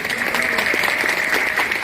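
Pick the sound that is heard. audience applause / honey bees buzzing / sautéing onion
audience applause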